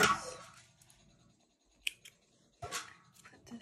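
Scissors snip through yarn in a few quick, close, crisp cuts separated by quiet pauses, with light handling noise between.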